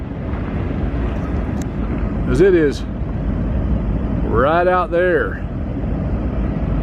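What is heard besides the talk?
train rumbling past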